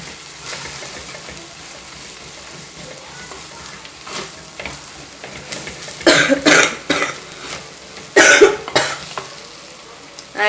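Ginger and garlic sauté in a pan with turmeric powder, a soft steady sizzle punctuated by two loud bursts of stirring and frying sound near the end, with no talking.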